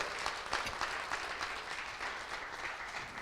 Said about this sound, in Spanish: Den un aplauso al Rey de Reyes y Señor de Señores.